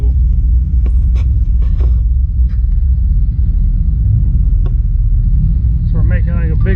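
Low engine rumble from a Z28 Camaro and other cars rolling along slowly together on a neighborhood cruise, steady and close, with scattered clicks and knocks and a brief voice near the end.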